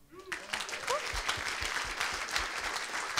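Conference audience at a Topconf Tallinn event breaks into applause after a brief voice at the start, a thick burst of clapping that stays loud and even to the end.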